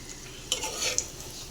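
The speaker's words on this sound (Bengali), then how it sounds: "এবার বড়া করছি। দেখে নাও কীভাবে ভাজছি।" Bora fritters fry in oil in a pan with a steady close sizzle, punctuated by a few light clinks and scrapes of a utensil against the pan.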